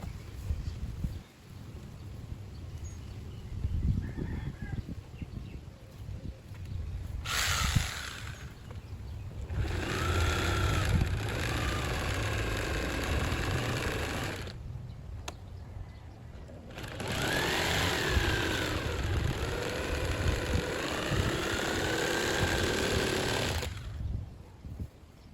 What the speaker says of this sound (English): put the saw down in one of those holes and start cutting the barrel